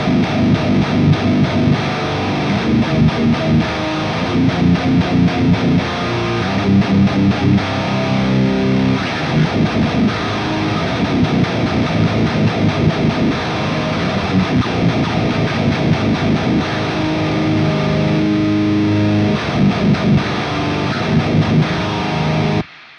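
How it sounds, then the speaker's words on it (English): Heavily distorted metal electric guitar through an Airis Effects Brutal Boost pedal pushing the amp hard plays loud, saturated chugging riffs with thick, compressed crunch, continuous and dense with no voices, cutting off abruptly. "it's now pushing the amp so hard. The distortion sounds just ridiculous."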